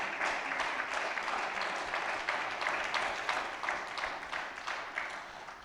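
A church congregation applauds during an apostle's sermon, a steady wash of many hands clapping at moderate distance that holds evenly for several seconds and then tapers slightly.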